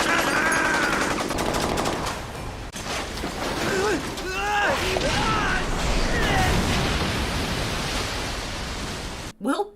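A steady, loud rattle of gunfire fills a scene in the Disaster: Day of Crisis video game, with a voice speaking over the shooting before it cuts off abruptly at the end.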